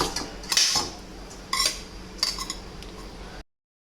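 Cooked mint rice being transferred into another vessel in a home kitchen, with a few sharp metallic clinks and scrapes of a spoon against a pot at irregular intervals, close and fairly quiet.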